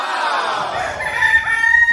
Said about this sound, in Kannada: ನಮ್ಮನೆ ಹತ್ರ ಇರೋ ಕೋಳಿಗಳು ಬೆಳಗ್ಗೆಯಿಂದ ಸಂಜೆವರೆಗೂ ಅರಚ್ತಾನೆ ಇರುತ್ತೆ